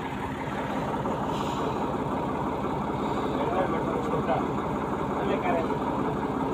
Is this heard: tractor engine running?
yes